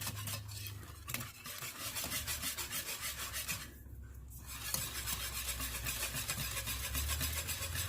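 A whisk scrapes steadily around a pot of cheese sauce for macaroni and cheese, giving a continuous, fast rhythmic rasping close up with a short pause midway, and no talking.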